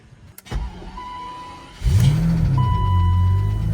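BMW 850i with an M70 V12, sitting a while on tired batteries, cranks after a click and fires into a loud, close idle that settles into a steady hum, no talk.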